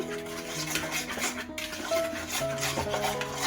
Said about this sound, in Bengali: চিনি আর ঘিটা ভালো করে মিশিয়ে নেব